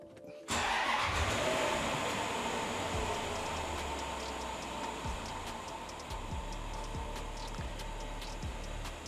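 A Land Rover LR4 engine cranks and fires after a moment of silence, then settles into a steady, fairly loud idle for several seconds with a few faint clicks.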